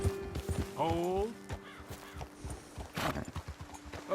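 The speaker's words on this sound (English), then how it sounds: "Best leave the horses back a bit." Horses walking in Red Dead Redemption 2, a steady clip-clop of hooves with a horse whinnying early on, while a voice talks over the hoofbeats.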